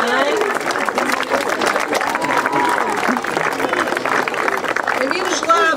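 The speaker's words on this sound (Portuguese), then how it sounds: "O João Rodrigo Melo Mendes Ferreira, uma salva de palmas também." An audience gives steady, dense applause at a school ceremony opening the 2014-15 school year in Mangualde, Portugal, with a voice speaking over the clapping throughout.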